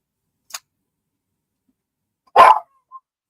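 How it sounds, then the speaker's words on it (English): A dog lets out a short, sharp bark, preceded by a faint tick and followed by a brief quiet tone, in an otherwise silent indoor setting. "Don't bark at the cat."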